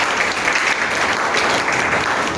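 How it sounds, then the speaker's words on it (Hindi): Sustained applause from an audience at a New Year 2024 celebration, dense and steady clapping throughout with no pauses, loud and close. "तो जोरदार ताली"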